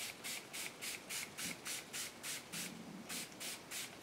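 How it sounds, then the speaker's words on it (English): Distress Reinker tumbled glass ink is pumped from a spray bottle in about ten short, evenly spaced hissing bursts, close and quiet, with no voices. "I'm going to start with tumble glass, and I'm just going to spray some on here."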